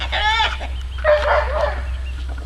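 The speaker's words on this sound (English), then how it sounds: "Y'all are being super clucky" Backyard homestead chickens clucking nearby, a burst of squawky calls followed by a busier run of clucks over a steady low hum, with ducks also present on the farm.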